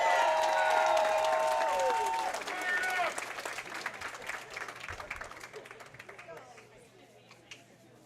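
A crowd applauds and cheers for high school bowlers at a state bowling championship in Wisconsin. The clapping is loud at first, with a tonal ring over it, then fades to scattered claps amid the chatter of a large indoor hall.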